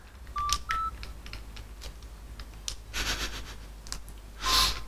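Animal Crossing on GameCube plays short synthesized town tune notes, a few brief tonal beeps spaced irregularly with a brighter burst near the end, faint and without talk.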